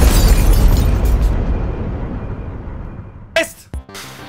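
A loud explosion sound effect in a lie detector prank booms at once and rumbles as it slowly fades, followed by a couple of short sharp pops.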